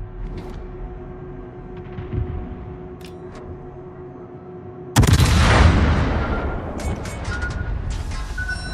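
Naval artillery in World of Warships, aboard the Clausewitz: a low rumbling backdrop, then a sudden loud heavy salvo blast that rolls into a long, booming decay with scattered crackles.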